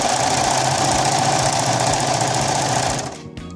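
A serger runs continuously on a scrap of fabric, chaining off a rolled hem tail with a steady, loud mechanical whir and rapid rhythmic knocking that winds down and stops near the end.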